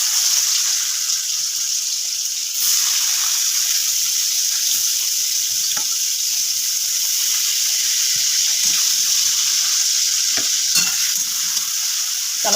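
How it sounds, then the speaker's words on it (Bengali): Onions fry in a little hot oil for mutton biryani, giving a steady loud hissing sizzle with occasional scraping stirs close by. "তেলের মধ্যে পেঁয়াজটা ভেজে নেবো মাংসের জন্য।"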